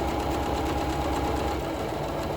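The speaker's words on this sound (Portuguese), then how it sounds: "Em cada lado, vocês vão costurar o fole assim" Sewing machine stitching the gusset seams of a summer bag, a steady close mechanical whir with rapid needle rhythm running throughout, loud and alone.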